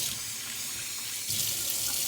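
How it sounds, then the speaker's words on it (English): Tap water runs into a sink to rinse freshly caught cicadas before cooking, a steady close hiss and splash that grows slightly louder halfway through. "Rinse them off in some water"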